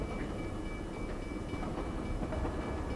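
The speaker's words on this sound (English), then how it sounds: "the train is stopped, but you can still clearly hear it moving" A moving train gives a steady, continuous rumble with faint rail clatter throughout, fairly close and unbroken, no voices.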